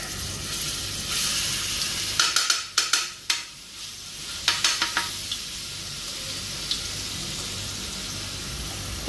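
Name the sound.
ginger garlic chili paste sizzling on a tava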